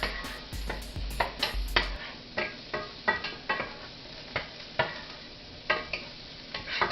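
Onions sizzling in a pan while being stirred, with a soft continuous sizzle under regular sharp scraping strokes of a spoon against the pan, fairly quiet and close, no speech.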